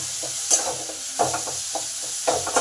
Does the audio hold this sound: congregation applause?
no